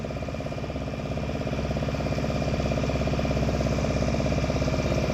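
A motorboat engine on Chilika lake chugs steadily and loudly close by, a fast regular thumping putter that holds its pace throughout with no voices over it.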